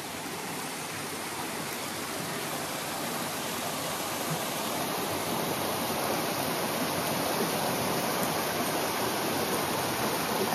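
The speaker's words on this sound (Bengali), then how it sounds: "কেমন আসছে জলটা দেখো, ঝর্ণার জলটা।" A forest waterfall stream in Kalimpong rushes steadily as a loud, unbroken broadband roar of flowing water, close by and without pauses or voices.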